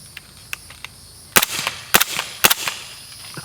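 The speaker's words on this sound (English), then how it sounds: "Let's shoot 10 rounds of subs." An MP5 firing subsonic rounds into a berm outdoors: three loud, sharp shots about half a second apart, each with a short echo, after some faint clicks.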